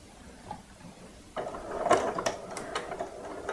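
A sewing machine stitches down the middle of rickrack trim on a gingerbread man softie. After a quiet start it kicks into a close, steady mechanical whir with a few sharp clicks, running alone without speech.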